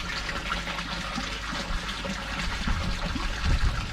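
Water pours steadily from a koi pond pump outlet into the pond, making a continuous, fairly loud splashing and rushing sound with no voices.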